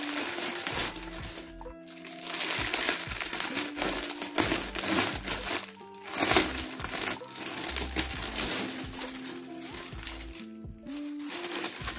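Crinkling and crushing of plastic and paper packaging as a Dell Inspiron X360 2-in-1 touchscreen laptop is unboxed, a close, steady rustle with brief cracks and pauses, no talking.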